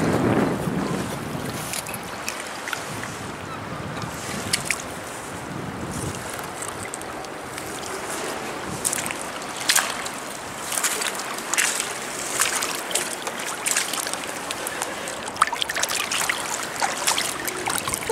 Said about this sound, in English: let's just give this button a little rinse